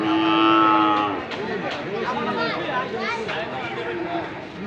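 Cattle moo loudly at close range at a livestock market before Eid al-Adha, one long low call followed by more lowing amid a busy crowd murmur in the background.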